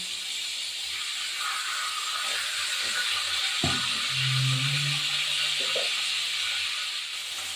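Chicken pieces fry in a hot pan, a steady close hiss of oil with a brief clatter midway as meat goes in, and no talk.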